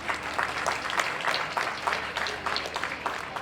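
Dense, steady clapping from an audience at a school launch ceremony fills the whole stretch at an even level, with no voices over it.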